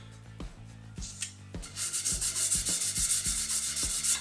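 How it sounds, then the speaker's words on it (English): Hand sanding the edges of a square cherry and walnut bowl: steady, close rasping strokes in a repeating rhythm, growing brighter and denser after the first second, with no talking. "So what I do is, I sand each of these edges."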